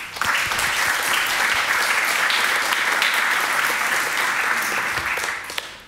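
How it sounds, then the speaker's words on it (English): Sustained applause from a seated audience at a talk, welcoming a lecturer on media and visual arts to the floor; dense, steady clapping for about six seconds that tapers at the end, with no talk over it. "Give him an applause."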